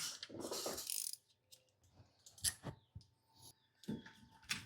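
A ratchet with a 10 mm socket is worked on a Triumph Spitfire. It gives several close, short bursts of clicking cranks separated by pauses, quiet overall.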